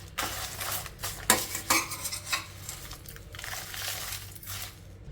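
Garlic and rock salt stirred in a metal pan, a steady scraping and clinking of a spoon against the pan with a few sharper knocks, close and fairly loud, no voices.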